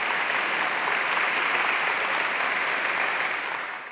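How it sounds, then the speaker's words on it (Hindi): A large audience claps loudly and steadily at an academy stage event in Hindi, a dense, even wash of applause lasting throughout and tapering slightly at the end. "प्लीज इनके लिए जोरदार ताली।"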